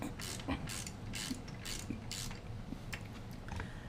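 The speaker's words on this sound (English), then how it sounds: "Just tighten that one right back up." A hand ratchet tightens a fastener on a Victory Vegas motorcycle during a battery swap, giving a quick series of close, rhythmic clicking strokes with no talking.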